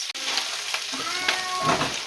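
Close sizzling and crackling of sausage balls frying in a hot pan, with a sharp clatter at the start and bursts of spattering.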